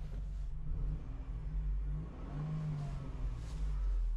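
The engine of a 2015 Ford Transit van with a variable valve timing fault runs rough, giving a steady low rumbling drone with slight wavering, close and continuous with no voices.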